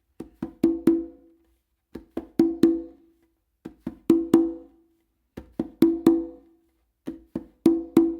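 A conga tumbao pattern plays in close, repeating groups: a muted bass-finger stroke from the non-dominant hand followed by two ringing open tones, in a steady cycle about every second and a half.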